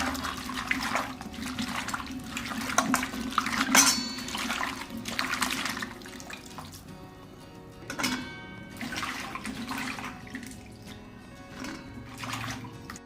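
Moringa drumstick pods being rinsed in water, with bursts of splashing and pouring that rise and fall at close range across the clip, louder in the first half and quieter later, no talk.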